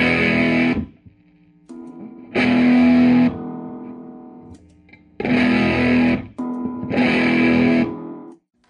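Electric guitar chords strummed through a Mojoverb spring reverb unit in four bursts, each trailing into a washy reverb tail that rings on between strums.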